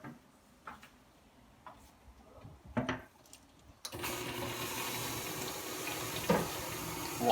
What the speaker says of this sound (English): Water runs in the bowl for about 7 seconds